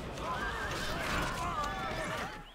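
Horses neighing and whinnying amid battle noise in the strategy game Battle for Middle-earth II, with continuous clatter and a voice shouting underneath throughout.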